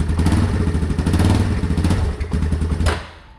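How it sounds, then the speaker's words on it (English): A neighbor's quad ATV with a carburetor engine running outdoors, a steady loud low-pitched idle with clattering mechanical knocks and slight revs, holding for about three seconds before cutting off abruptly. "We'll get the start up on the neighbor's quad."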